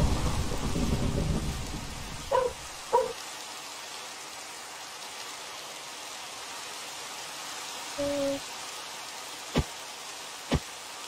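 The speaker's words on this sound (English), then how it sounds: "The thunder's so scary." Minecraft thunderstorm ambience: a low thunder rumble fades out early, then soft rain hiss continues under a few short game blips and sharp clicks.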